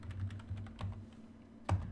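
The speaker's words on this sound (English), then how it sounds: "as you're typing in this password, nothing will pop up" Quiet keystrokes tap out a password on a computer keyboard in a lab setting, a quick run of evenly spaced clicks followed by a pause and one firmer final press.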